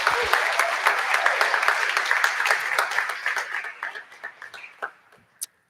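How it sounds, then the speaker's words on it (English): A high school band concert audience claps in a dense, steady burst of applause that thins out and fades to a few scattered claps near the end. "So one more round of applause for Jules"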